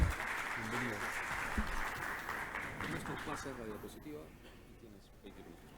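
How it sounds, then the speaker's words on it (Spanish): Audience at a mining industry technology conference in Latin America applauding as a speaker is welcomed, a steady wash of clapping that fades toward the end while voices talk over it. "Un fuerte aplauso, por favor, Pablo."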